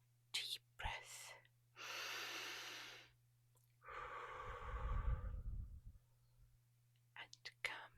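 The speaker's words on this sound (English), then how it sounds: "I need to take a" A slow, deep breath is drawn in and let out in soft whispered ASMR style, close and quiet, with breathy whispering around it.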